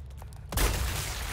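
A single gunshot goes off in the video game Resident Evil 4 Remake. It lands as a sharp, loud crack after a quiet lead-in, and a thick rumbling decay follows it.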